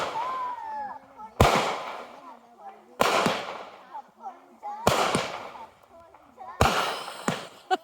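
Canada Day fireworks in 2022 burst overhead in four loud, sharp booms spaced about a second and a half apart, with crackling tails, as people cheer and chatter between the explosions.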